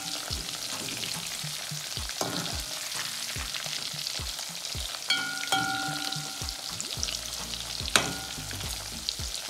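Breadcrumb-coated liver deep frying in hot oil gives a steady, dense sizzle with popping and crackling, close up, plus a few light clinks and scrapes of utensils and no voices.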